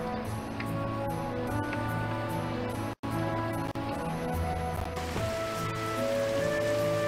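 Rain patters steadily in the video game Kitaria Fables, a soft continuous wash under looping game music with sustained tones, briefly cutting out once before resuming.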